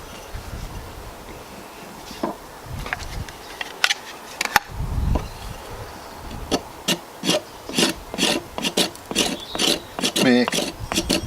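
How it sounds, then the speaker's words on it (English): The back of a knife scrapes fatwood into fine sawdust-like shavings, a series of short, close rasping strokes that quicken into a steady rhythm after a few scattered scrapes, with brief talk early on. "make like sawdust type shavings, and I'm using the back of the knife to do that"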